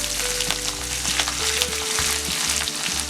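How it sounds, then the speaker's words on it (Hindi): Finely chopped green chillies and coriander fry in hot oil for a poha chivda snack, giving a loud, steady sizzle with scraping stirs, close and continuous with no voices. "इसमें हम 5 हरी मिर्च बारीक कट की हुई डालेंगे। इसे थोड़ा सेक लेंगे।"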